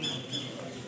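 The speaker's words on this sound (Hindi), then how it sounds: "हर तरफ आवाज़ ची ची ची ची ची, तोते की, मोर की, हर चीज़ की आवाज़ आ रही है यहाँ पर।" Parrots and peacocks call together in a shrill, continuous outdoor chorus. Squawks overlap steadily through the brief moment without a break, moderately loud and with no talking over them.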